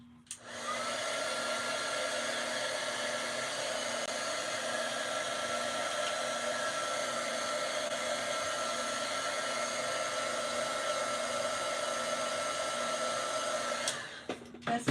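Heat tool blowing in a continuous steady whir to warm a sticker on a plain wooden ornament, close and moderately loud, switching on at the start and cutting off near the end, with no speech.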